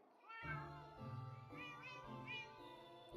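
Minecraft cats meowing in a row, several distinct harmonic meows one after another, clear and close with no talking.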